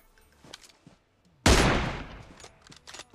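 A single loud, close gunshot blast in the mobile battle-royale game PUBG Mobile rings out and decays over about a second, preceded and followed by faint game ambience and soft footsteps.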